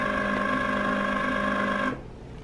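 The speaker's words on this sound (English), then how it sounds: "The first thing I'm going to do is cut on the Cricut." Cricut cutting machine slicing heat-transfer vinyl, a steady close whirring hum with tonal motor whine that runs evenly and then cuts off abruptly near the end.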